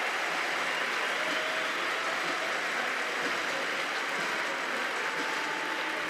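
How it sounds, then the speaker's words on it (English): A packed arena crowd at a men's boulder climbing final in Bern roars with steady cheering and applause, a dense, unbroken wash of noise lasting several seconds. "Great welcome from the crowd there as well."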